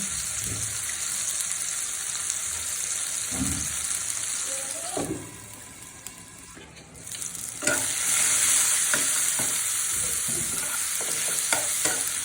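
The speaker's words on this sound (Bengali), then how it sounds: "টমেটোটা সিদ্ধ হওয়ার জন্য আমি এটা একটু ঢাকনা দিয়ে রান্না করব।" Tomatoes cook in a frying pan, sizzling steadily under several stirring and scraping strokes. The sound dips briefly toward the middle, as though a lid is set on, then comes back louder and constant, close up, with no voices.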